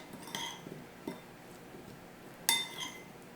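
A utensil scrapes and clinks against a bowl while vegan ingredients are stirred together with nutritional yeast, giving a few sparse, light knocks and one sharper ringing clink, close and fairly quiet with no talking.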